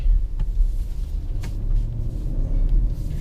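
A BMW X7 xDrive50i V8 SUV rolls over rough ground with a heavy, continuous low rumble of engine and tyres, close and steady, with occasional faint knocks from the chassis.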